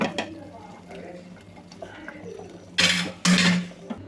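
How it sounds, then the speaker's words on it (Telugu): Hot tempering is poured into cooked mutton curry in a pan, giving two short, loud sizzling bursts near the end after quieter kitchen clatter. "తాలింపు మొత్తాన్ని అయితే మటన్లోకి అయితే వేసేసాను"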